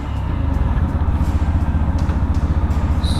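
A Yamaha FZ-X motorcycle engine idles steadily and close, its low, even pulsing thump running throughout with no talk over it.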